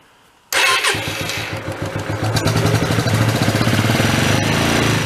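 A Hyosung Aquila motorcycle that had sat for years fires up after a short quiet moment, then settles into a loud, close, rough idle that swells a little as the throttle is opened.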